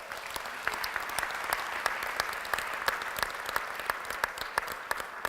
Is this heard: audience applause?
yes